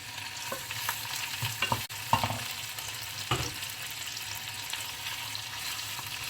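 Shrimp added to a pan of softened garlic fry with a steady sizzle, broken by a few stirring scrapes and clatters.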